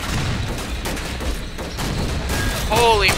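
Cannon fire from toy-soldier tanks in an Army Men video game mod, rumbling as a steady, heavy barrage of booms, with a short whistling effect near the end.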